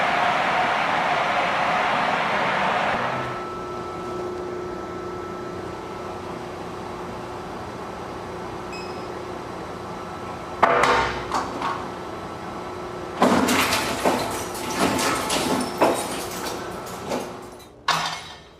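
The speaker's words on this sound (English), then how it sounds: "The disks are completely wiped and then destroyed in a huge shredder." Hard drives being fed into a huge industrial shredder at a Google data center, a steady machine hum broken by loud bursts of crunching and grinding that come in clusters toward the end, with no voices.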